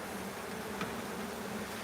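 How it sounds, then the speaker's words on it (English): Angry honey bees swarm around an open hive during maintenance, a steady low drone of many wings, close and continuous, with one brief sharper buzz passing near. "the bees are getting very, very angry"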